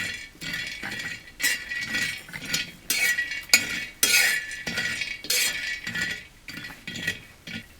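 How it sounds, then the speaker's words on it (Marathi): Peanuts roasting on a hot griddle are stirred and tossed, giving repeated bursts of dry rattling, scraping and clinking at an uneven rhythm, with no talk. "आता त्याच तव्यावर शेंगदाणे भाजून घेऊ तापलेल्या तव्यावर."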